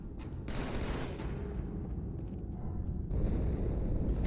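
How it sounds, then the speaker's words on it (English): A ship called the Athens blows apart in Halo 2, a loud, sustained roaring rumble of explosion and debris that swells again midway, heavy and booming, with no voices over it. "Die Explosion kam aus dem Innern der Athen, genau wie bei der Malta."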